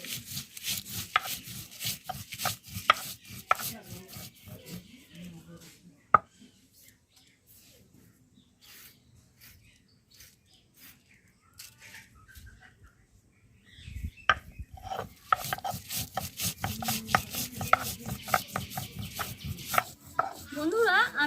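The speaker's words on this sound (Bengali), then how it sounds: "বন্ধুরা, আমি এই সব কিছু একসঙ্গে বেটে নিচ্ছি, যাতে আমার বাটাটা তাড়াতাড়ি হয়ে যায়" Spices are ground together by hand into a paste for a climbing fish dish, heard as rapid rhythmic scraping strokes up close that stop for a long quiet stretch in the middle and then resume.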